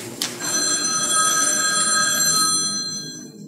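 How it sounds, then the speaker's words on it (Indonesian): A telephone bell rings in a radio drama, a sharp click followed by one long, bright, sustained metallic trill that rings loudly for about two seconds and then fades out, with no talk. "Bel telepon berbunyi."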